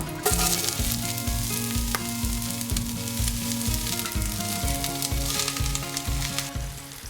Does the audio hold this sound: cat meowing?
no